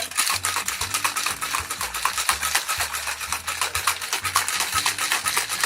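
A cocktail shaker packed with ice and fresh mint for a Southside cocktail shaken one-handed, giving fast rhythmic rattling bursts, loud and close, in a steady back-and-forth pattern.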